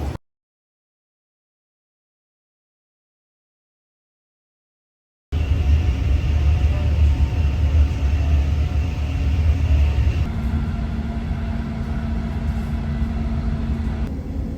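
Steady low rumble of a moving train heard from inside, with a constant hum and rattle after a silent opening.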